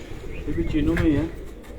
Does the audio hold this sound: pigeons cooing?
yes